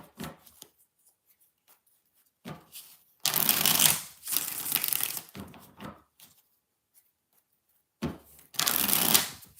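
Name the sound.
shuffling tarot cards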